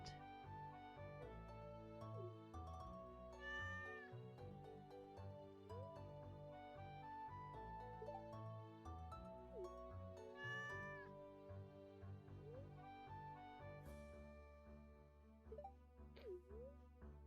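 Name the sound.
cat meowing in the video game Stardew Valley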